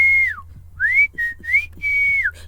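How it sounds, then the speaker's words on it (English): A person whistles a short tune of sliding, rising and falling notes, four or five phrases in quick succession, close and clear with no talking. "and I would call her and I would whistle."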